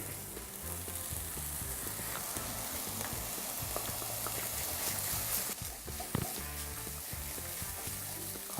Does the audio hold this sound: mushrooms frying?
yes